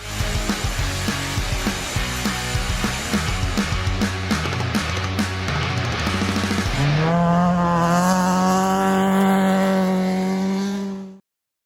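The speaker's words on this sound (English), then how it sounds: "Today we are turning the key on the H22 Turbo Frankenstein Civic" A built Honda Civic fitted with a turbocharged H22 engine starting for the first time: several seconds of rhythmic starter cranking, then the engine catches and settles into a loud, steady idle before cutting off abruptly.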